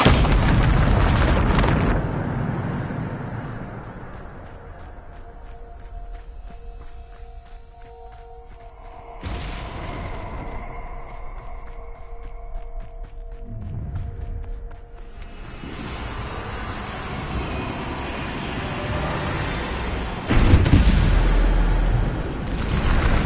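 Bombarda spell blasts in the Hogwarts Legacy video game, with booming explosions and whooshes at the start and end and rumbling, crackling bursts in between, mixed with tonal game music.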